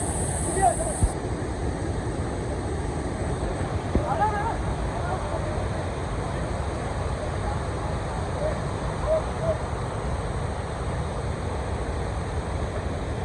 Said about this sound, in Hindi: और झरना भी ऐसे बह रहा है।